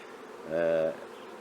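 Honey bees buzz in a short, steady swell as a beekeeper in the tropics handles the colony, a close, loud harmonic hum rising and fading within about a second over a faint background drone.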